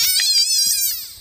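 A frog gives a loud, close, high buzzing call with a rapid pulsing trill, lasting about a second alone.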